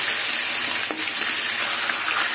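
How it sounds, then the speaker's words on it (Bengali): A fish head fries hard in hot oil in a wok, giving a loud, continuous sizzle near at hand, broken once by a brief scrape or stir, with no talking. "মাছের মাথাটা কড়া করে ভাজবো"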